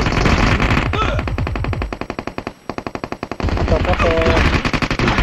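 Rapid automatic gunfire from the video game PUBG, loud dense bursts with a short pause in the middle and voices talking under them.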